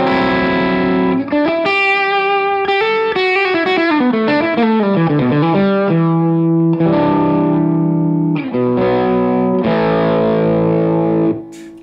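Electric guitar through a Stumpbox fuzz pedal with the gold knob engaged, loud and saturated, playing melodic runs and bends before settling into sustained, ringing fuzzy chords, with no talking.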